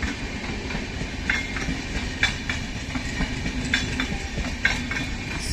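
Sleeper coaches of the Howrah–Guwahati Saraighat Express pass close through a station, wheels clicking over rail joints in a steady clickety-clack beneath a continuous rumble.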